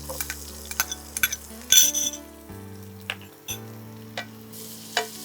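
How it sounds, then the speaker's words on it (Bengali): Onions tip into hot oil already used for frying fish and potatoes for a tangra fish and sweet potato curry. They hiss and sizzle up close, with scattered stirring scrapes and clinks over a steady low tonal backdrop. "এবারে পেঁয়াজ দিয়ে দেবো।"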